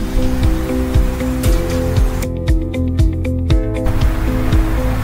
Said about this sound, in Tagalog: At ating silipin ang napakagandang falls sa gitna ng kabundukan.